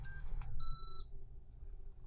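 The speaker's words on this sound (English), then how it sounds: "it can be used to sound an alarm if you lose your wallet, or even if you lose your phone" An Ekster Parliament smart wallet tracker card alarm sounds a few quick high electronic chirps, then a steady piercing beep tone for about half a second before cutting off to quiet room hum.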